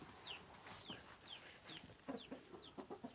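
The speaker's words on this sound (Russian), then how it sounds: "Ой, боже, курочки там. Там курочки." Several chickens cluck and chirp softly at a moderate distance, repeated short calls with an uneven rhythm.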